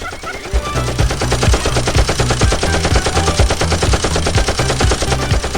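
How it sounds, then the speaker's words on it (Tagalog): Rapid machine gun fire as a sound effect, a dense, continuous rattle of rhythmic bursts that stays loud and steady throughout, with a voice faintly audible behind it. "Machine gun ba?"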